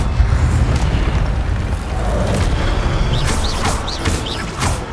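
An Incendio fire spell bursts with a deep, rumbling roar in Hogwarts Legacy, loud and sustained, with faint chirping sounds rising near the end.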